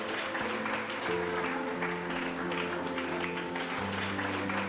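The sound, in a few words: seminar audience applause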